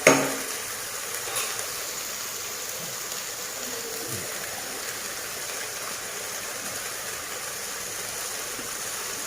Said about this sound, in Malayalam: നമുക്ക് കുറച്ചുകൂടെ എണ്ണ ഒഴിച്ചു കൊടുക്കാം.